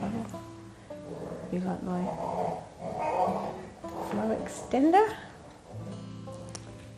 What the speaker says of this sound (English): I do apologise for the dog noises